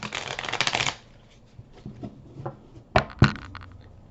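Tarot cards being shuffled close by, a quick riffling flutter for about a second followed by scattered soft taps and two sharper snaps as cards are handled and laid down.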